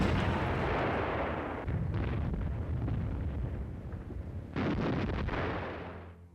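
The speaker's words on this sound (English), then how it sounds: "After a concentrated artillery barrage, the infantry and assault pioneers slid into the ditch" Loud, continuous artillery barrage with dense overlapping booms and rumble, swelling again midway before fading, set in a WWII infantry assault on the Tatar Ditch at Perekop in the Crimea.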